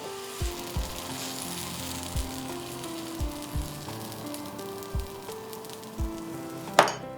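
Sprouted moong and methi chila batter sizzling on a pan off the heat, a low steady fry with soft repeated scraping taps as the batter is spread, and a sharper clink near the end.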